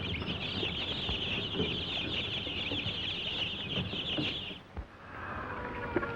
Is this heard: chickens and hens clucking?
yes